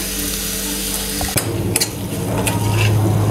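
Steady sizzling of tomatoes frying in a pan, with a brief clatter partway through as something is stirred or added.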